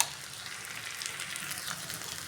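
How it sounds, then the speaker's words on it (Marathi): Soaked sabudana and peanut powder fry in hot oil with a continuous close crackling sizzle, steady and moderately loud throughout. "चला तर आता ह्याला आपण तेलामध्ये आता फ्राय करूया."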